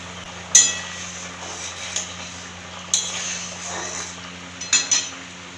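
Metal lid lifted off a pot of prawn and potato malai curry, a few bright clinks and clanks of metal on metal spaced out, close, over a quiet kitchen hum.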